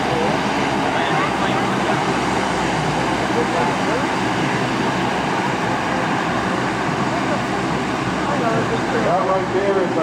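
A 130,000-pound aircraft backs up on the ground at an airshow, a steady loud whine and broadband turbine roar filling the scene continuously, with people talking over it.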